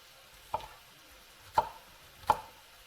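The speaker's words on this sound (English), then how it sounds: "So we'll be chopping this" Three sharp knife chops through peppers land on a cutting board, spaced unevenly over a few seconds, with quiet kitchen background between them.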